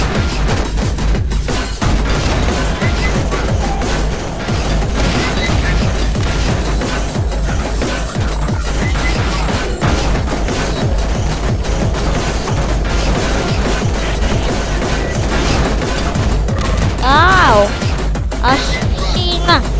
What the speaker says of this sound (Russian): Аж сильно стреляет робот.